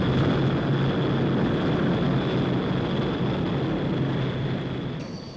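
Hawker Siddeley HS-125 business jet, a 1960s civil aircraft, roaring steadily with a high engine whine over broad rushing noise, loud and constant before slowly fading away.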